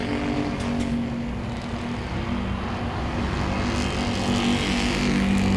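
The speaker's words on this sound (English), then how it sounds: "Sammy Gaeta's got a fast race car." Super Street race cars lap Langley Speedway, their engines making a continuous, fairly loud roaring drone that builds slightly toward the end, with no talk over it.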